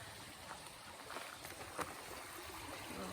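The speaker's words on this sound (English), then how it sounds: "Little creek." A small creek trickles and flows steadily along the Appalachian Trail, a soft continuous wash of water nearby with a few light splashes, no talking.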